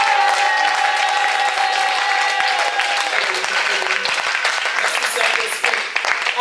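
A church congregation applauds and cheers for the Lord, a dense sustained wash of clapping with raised voices and a held tone, steady and loud before thinning slightly at the end.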